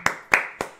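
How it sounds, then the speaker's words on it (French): A single person claps hands four times in quick, even succession, sharp and close, with nothing else heard. "Je t'applaudis quand même."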